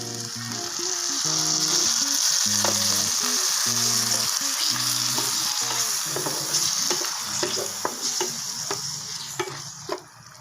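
Chili sauce hits frying chicken filling for a chicken roll paratha, setting off a steady, loud sizzle with rhythmic stirring scrapes throughout and a few sharper clicks near the end.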